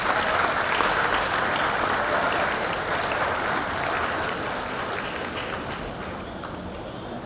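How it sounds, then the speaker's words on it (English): Sustained applause from a large crowd at a university convocation ceremony in Hyderabad, steady and loud throughout, slowly tapering slightly toward the end. "please give a big round of applause for yourselves"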